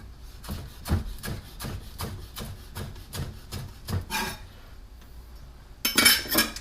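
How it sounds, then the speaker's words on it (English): Knife slicing green onion into thin rounds on a cutting board, a steady series of crisp taps repeating at a quick rhythm, close and alone, with a brief clatter near the end. "Again, just little slices of green onion."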